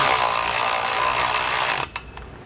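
Bolts tightened with a 19 mm socket and wrench while fitting a Roadmaster Comfort Ride suspension to a 2020 Grand Design Momentum RV: a steady, loud mechanical whirring that stops sharply near the end, leaving a few faint clicks.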